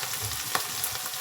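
Onion and chillies frying in oil with mustard seeds, cumin and curry leaves, giving a continuous close sizzle with a faint stirring scrape and no voices.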